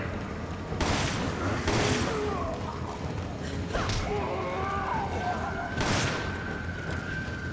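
Several sharp gunshots from Resident Evil 5 crack out at irregular intervals over a steady bed of game ambience and effects, each burst loud and close.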